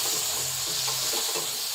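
Chicken frying in ghee gives a steady, close sizzle with a constant broadband hiss and faint crackles throughout, with no voices.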